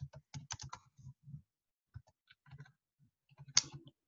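Typing on a computer keyboard: quiet, close-up clusters of key clicks in uneven bursts with brief pauses between them, no voices.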